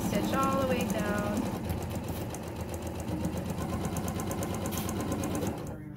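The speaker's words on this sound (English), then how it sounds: "So I'm just going to stitch all the way down." A sewing machine stitches a long seam down a Friendship Star quilt block, running steadily with a rapid, even clatter, close and loud, before stopping at the very end.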